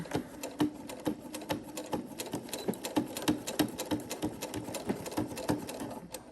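A sewing machine runs steadily while stitching a zipper pouch, a fast even stream of needle clatter that stays close and clear for several seconds with no voices over it.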